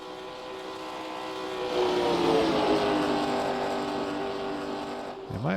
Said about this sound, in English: Is the car sounds coming through, guys?